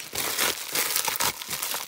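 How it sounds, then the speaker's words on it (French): Close, continuous crinkling and crackling as sticky tape is crushed into a ball, dense papery rustles in quick bursts, no talking. "Regardez l'énorme boulette de scotch."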